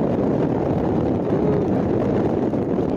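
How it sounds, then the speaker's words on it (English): Blizzard wind drives snow sideways across a deck in the early morning, a constant loud roar buffeting the microphone, with no talk. "The blizzard has kicked in."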